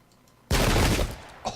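A sudden massed musket volley from the Pike and Shot game, a loud single crackling burst that decays over about half a second, followed by a faint short echo.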